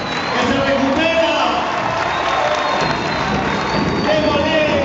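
A large crowd at a campaign closing rally in Malvinas Argentinas cheers and shouts continuously, a dense roar of voices with scattered applause that stays loud throughout.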